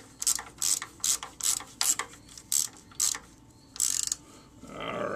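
A ratchet wrench tightens the bolts on the oil filter mount of a 1974 Ford F250 with a 390 cubic inch engine. Eight short clicking bursts come in a steady rhythm, close and clear, followed by a softer scraping rub.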